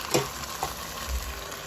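Salmon, garlic, parsley and olive oil frying in a pan give off a steady close sizzle, with a few brief splashy crackles near the start as a little water goes in. No one speaks.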